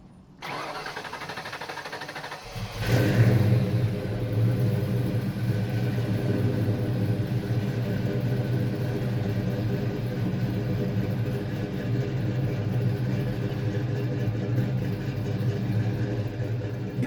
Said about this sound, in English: last thing to do now is just fire it up, make sure the belt works correctly on the tensioner